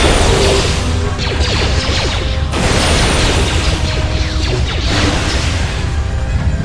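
A Destroy Droid power blast in the video game KOTOR2 bursts out in loud, crashing booms, with two sharp impacts surging over a dense, rumbling backdrop of game effects.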